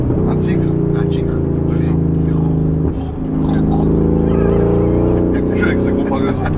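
A powerful Brabus 850-horsepower car engine growls and revs loudly inside the cabin, dipping briefly before rising again, while people talk over it.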